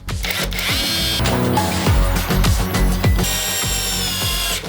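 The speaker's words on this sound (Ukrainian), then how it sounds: "Так, тепер пробуємо глухар 160 мм." A Revolt multitool power tool drives a 160 mm lag screw into wood, its motor whirring in close, loud bursts that rise and strain under load, with brief pauses between pulses.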